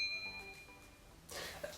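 Bright bell-like ding of a notification chime, a single ringing tone near the end of a short quiet stretch.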